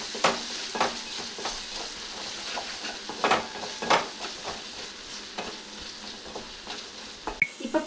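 Pasta sauce with pepper stirred in a pan: a soft bed of sizzling broken by repeated scraping spoon strokes at an uneven pace, close and fairly quiet, no voices.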